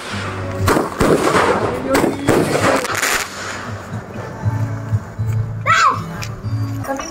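Fireworks at a restaurant bar's grand opening in San Pablo City, Laguna pop and crackle in a rapid cluster of sharp bursts over the first three seconds. Crowd noise and voices continue beneath and after them, with a brief whistle near the end.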